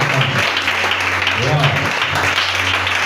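A church congregation claps and cheers together, a dense steady wash of applause mixed with shouting voices, continuous and fairly loud throughout.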